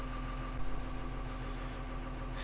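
Caterpillar 150 motor grader diesel engine idling nearby, a steady low hum with a faint tonal drone and no voices over it.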